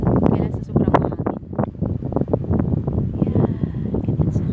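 Strong wind buffeting the microphone in an open grape field, continuous loud gusty rumble with a voice talking over it.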